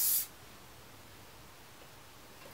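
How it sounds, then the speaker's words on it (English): A single short spritz of hairspray from a can onto hair, a close, bright hiss lasting a fraction of a second, followed by near silence. "So just spritz in that hair"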